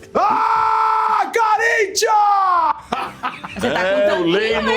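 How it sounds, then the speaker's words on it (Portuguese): A replayed shout from a Corinthians football player during a Supercopa do Brasil match against Flamengo, a long loud drawn-out yell followed by further hoarse cries and excited voices, near and strained. "você ouviu o grito dele?"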